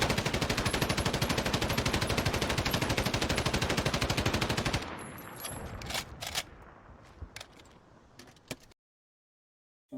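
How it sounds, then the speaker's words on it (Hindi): Rapid gunfire effect in a dramatic Hindi serial, a loud continuous burst of shots for several seconds, then a few scattered sharp cracks and knocks before cutting to silence. "लगातार एक के बाद एक 3 गोलियां उसे आकर लगी"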